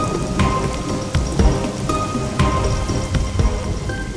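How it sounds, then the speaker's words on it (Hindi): Heavy rain pours down on a forest path, a loud, dense steady hiss with repeated sharp drips and splashes striking surfaces close by, while low rumbles suggest thunder; no voices are heard. "जंगल के रास्ते में इतनी तेज बारिश शुरू हो गई"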